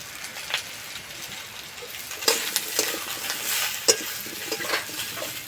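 Potatoes and taro frying with turmeric in a pan, stirred by hand: a continuous close sizzle broken by several sharp scraping clatters of the utensil against the pan, with no voices.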